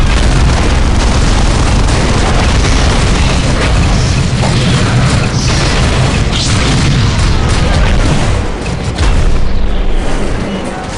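Sustained battle din from the Warhammer 40K Dawn of War Soulstorm strategy game, Chaos versus Eldar: dense gunfire and booming explosions roll on continuously at high loudness for the whole stretch, with a brief dip near the end.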